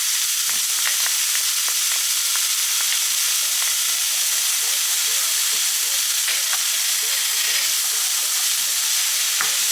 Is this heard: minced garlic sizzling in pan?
yes